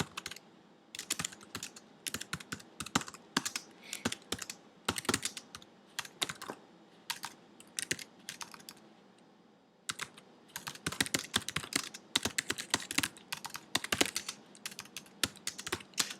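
Close typing on a computer keyboard: quick bursts of clicking keystrokes with short gaps, then a brief lull near the middle before a dense run of rapid keys resumes, with no talking.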